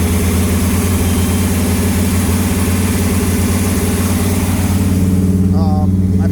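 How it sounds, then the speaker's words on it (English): A Gen 1 small-block V8 with a four-barrel carburetor and Flowmaster mufflers in a 1955 Ford F-100 hot rod runs steadily at a loud, close idle with a deep, even rumble throughout and a slight rise near the end. "Give you a good look at the engine while it's running."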